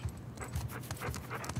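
A dog panting in the video game Uncharted 4, quick rhythmic breaths repeating steadily at close range, soft and alone with no speech over it.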